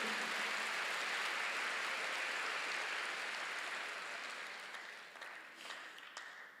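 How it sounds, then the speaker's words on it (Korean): A church congregation claps together in sustained, dense applause during a sermon, steady and full at first and then gradually thinning out toward the end. "박수"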